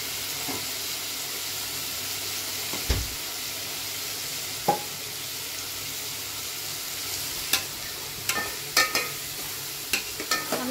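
Soya chunks (meal maker) sautéing in a pot for veg biryani, a steady soft sizzle with scattered spoon scrapes and clinks, close and moderately quiet, no voices.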